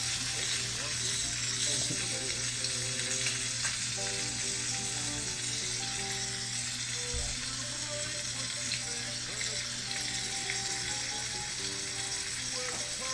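Steady, close sizzling of a chicken breast frying in a hot saute pan, a continuous crackle with occasional faint clinks and low voices in the background.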